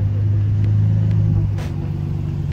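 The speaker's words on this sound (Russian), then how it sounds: "У нее что за громкий выхлоп?" A Mercedes C63 AMG accelerates with a loud exhaust: a deep, steady engine rumble close by that eases slightly after the midpoint, with no talking.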